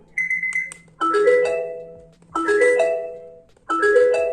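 A loud electronic alarm from a Bluetooth clock speaker at maximum volume plays a repeating melodic chime pattern in bursts, each phrase followed by a short pause, close and piercing.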